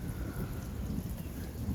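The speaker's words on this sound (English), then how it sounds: "we got thunder." Thunder rumbles through steady rain during an outdoor storm in Penfield, New York, a low continuous roll blended with the hiss of rainfall, fairly loud and unbroken.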